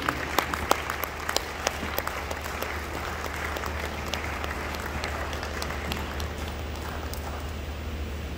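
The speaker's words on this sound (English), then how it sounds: "Please, let's applaud till they get here." Sustained applause from an audience, a steady wash of many hands clapping with a few sharper individual claps standing out, continuing throughout.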